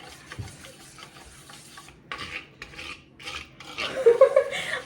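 Christmas cake batter being mixed in a bowl, with scraping stirring strokes in uneven bursts that grow louder and busier toward the end, fairly close and with no talk.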